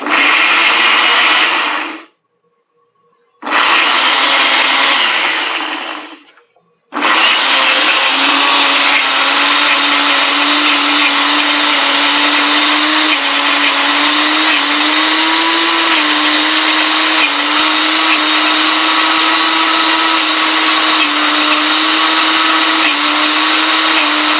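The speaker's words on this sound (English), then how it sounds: "go ahead and blend it till it's real smooth" A blender whirs loudly and steadily as it purees peas until smooth, starting and stopping twice in short bursts before running continuously at a high, even pitch, close up with no talking.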